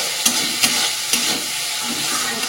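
A small amount of spices fries and is stirred in a pan for fish curry, a soft continuous sizzle broken by a few sharp spatula taps.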